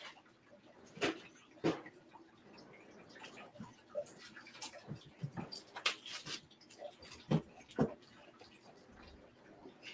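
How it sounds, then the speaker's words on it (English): An agitated pet dog barks and whimpers indoors, sounding short, sharp yelps and whines in irregular bursts against a quiet background, fairly faint and at some distance. "you just get to around this time of day and my dog just goes nuts."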